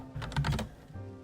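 Short burst of computer keyboard typing while chatting in Final Fantasy XIV, a quick cluster of close, crisp key clicks followed by a brief pause and a couple of softer taps.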